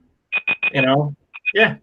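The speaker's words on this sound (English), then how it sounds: "I hear a beep going on." A debate timer goes off with a short series of sharp electronic beeps, three quick pulses then a pause and more, with a person speaking over part of it.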